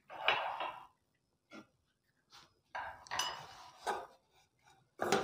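A spoon clinks and scrapes against a dish while adding brown sugar to an oat snack bar mixture, several short separate taps and clatters, close and quiet with pauses between.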